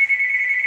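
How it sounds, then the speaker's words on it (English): A house phone rings with a steady electronic tone, loud and continuous for the whole moment with no voices. "let me answer the house phone"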